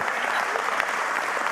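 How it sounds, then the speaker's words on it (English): Audience applause for the contractors at an industry forum and facility tour, a short steady burst of many hands clapping at once with no pauses. "Give the contractors a round of applause."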